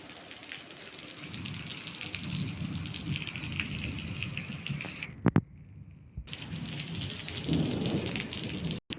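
Heavy monsoon downpour on a flooded stadium in Gadchiroli, a dense, steady roar of rain with a brief interruption and a short click partway through, continuing loud to the end.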